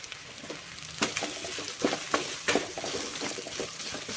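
Grated coconut frying in oil for a chicken gravy, a steady close sizzle broken by several sharper crackling bursts and scraping stirs, with no voices.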